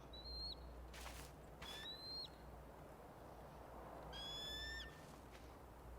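Faint, distant eagle calls in the video game Tell Me Why, several high shrill cries spaced across a quiet outdoor bed, the last call longest.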